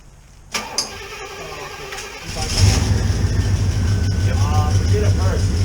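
A 1975 Pontiac Firebird cranks with a few clicks and whirs, then catches and settles into a loud, rumbling idle close by, with people talking faintly over it.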